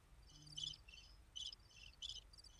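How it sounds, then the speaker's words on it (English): Faint crickets chirp in short repeated trilling bursts, several pulses spaced about half a second apart over a quiet low background hum. "I hear some crickets."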